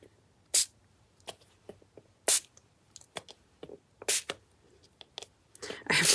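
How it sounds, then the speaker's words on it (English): Short, breathy spritzes from a reused little plastic spray bottle, several quick puffs scattered irregularly with small handling clicks between them, close and fairly quiet. "I'm just gonna spritz this stuff a bit"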